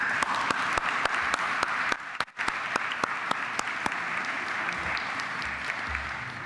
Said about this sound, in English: finish this first part with a round of applause for our speakers